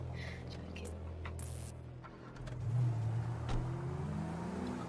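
Car engine driving in the GTA Five video game, a low steady drone that rises and strains around the middle, with a voice speaking over it.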